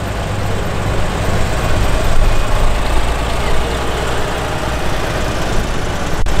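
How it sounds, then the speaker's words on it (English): A Farmall 560 high-clearance International Harvester tractor runs steadily nearby, its engine giving a continuous low rumbling drone at a constant idle-like pace with no voices over it. "Here's a 560 Farmall high clear."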